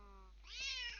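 A pet cat named Cleo gives a single drawn-out meow, close and fairly loud, rising then tapering over about a second with no talking over it.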